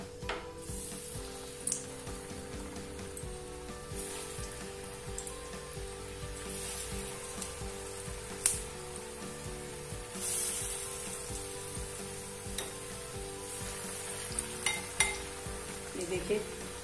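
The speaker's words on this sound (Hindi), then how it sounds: "अब तेल गर्म हो गया है, हम डालेंगे इसमें अब कोफ्ते बनाएंगे, घिया और आलू के कोफ्ते।" Bottle gourd and potato kofte frying in hot oil, a steady sizzle running throughout with scattered spoon clinks and stirring sounds against the pan, close and moderately loud, with no talking.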